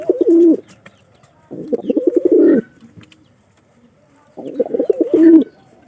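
Pigeons coo in three close, loud bouts of throaty, rolling calls with short quiet gaps between them.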